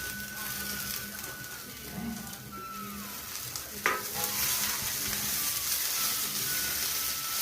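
Tomato, carrot and other vegetable pieces sizzle and fry in a pan over a low gas flame, a steady crackling hiss with occasional stirring scrapes and one sharp clatter midway.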